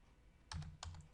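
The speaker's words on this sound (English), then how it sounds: "If you go up here and you type the school" Keys on a computer keyboard are tapped to type a school name, a few quick, quiet clicks in two short bursts, close up with no talking.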